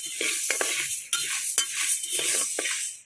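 Dry moth beans rattle and scrape as they are stirred in a hot pan, with repeated rhythmic sweeps and soft clinks of a spoon against the metal, close and steady, with no voices.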